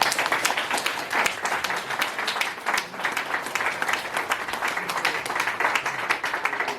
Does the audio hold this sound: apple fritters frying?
no